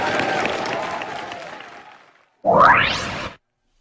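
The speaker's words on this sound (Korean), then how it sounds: "오늘 박수 부탁드립니다" A studio audience applauds at a live Korean morning news-talk broadcast, a dense burst of clapping that swells briefly then stops, following a stretch of fading speech.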